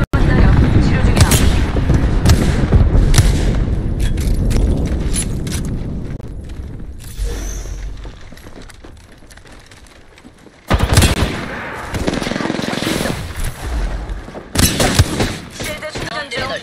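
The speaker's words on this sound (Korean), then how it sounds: "공습이다. 사격한다." Video game battle with an airstrike and gunfire: dense bursts of rapid shots and booms fill the first half, fade to a lull, then return in loud bursts near the end, with in-game voices talking over them.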